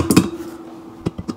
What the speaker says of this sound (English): just measuring the flour. Should probably do this in the bowl.